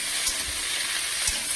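Spice tempering sizzles in hot oil alongside cauliflower pieces, a steady close crackling hiss with a few soft low thumps of stirring, continuous through the short stretch.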